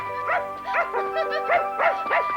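Toto the dog yaps and yips in a quick series of about six bright, repeated barks, close and clear with no talking.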